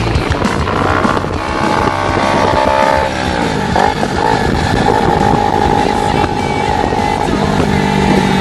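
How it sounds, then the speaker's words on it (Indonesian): A Honda CBR250RR motorcycle engine drones steadily while being ridden, loud and close, with wind rushing across the microphone throughout. "Pertama kali mengendarai CBR 250RR ini"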